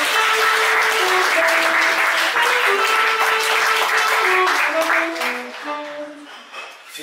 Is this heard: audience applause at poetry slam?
yes